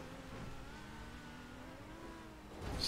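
A car engine in a mega ramp racing video game hums and climbs in pitch as it accelerates, a steady moderate drone that swells louder near the end.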